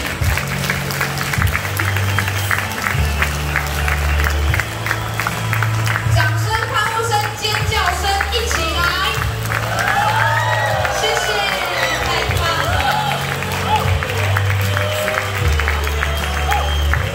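Wedding banquet guests applaud the bride and groom's entrance with sustained, loud clapping and scattered cheers from a large crowd, continuing without a break throughout while music plays beneath.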